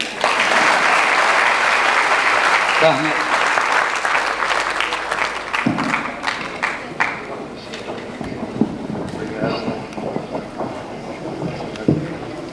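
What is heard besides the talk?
audience applause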